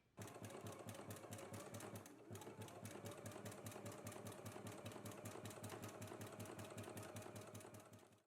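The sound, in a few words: sewing machine zigzag stitching side seams of jersey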